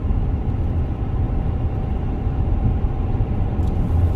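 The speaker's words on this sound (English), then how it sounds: "My truck does not shut off." A diesel truck engine idles in a low, steady rumble with a continuous even drone, close and fairly loud, and no talk over it.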